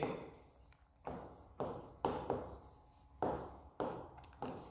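A pen writes a line of a maths solution on paper, with repeated short scratchy strokes in bursts about every half second, close and fairly quiet.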